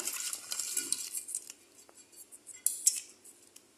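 Metal utensils clink and scrape against cookware while cooked food is transferred into a flat cooking pot, a quiet run of light taps and scrapes with one sharper clank near the end.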